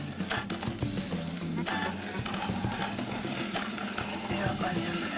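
Onion and shallot sizzle and fry in melted butter in a pan, a steady loud crackle with occasional stirring clatter throughout, no talking.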